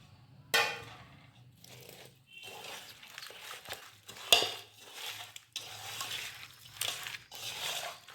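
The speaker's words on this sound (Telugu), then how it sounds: "అల్లం వెల్లుల్లి పేస్ట్, మనం ఉల్లిగడ్డలు వేయించుకున్నటువంటి ఆయిల్ ఉంది, దీంట్లో కొద్దిగా పోసుకొని దీన్ని కలుపుదాం." Ginger-garlic paste being stirred into onion-fried oil for a home-style chicken biryani, with a sharp clatter near the start and another midway, then a steady run of scraping, mixing strokes at moderate level with no talking.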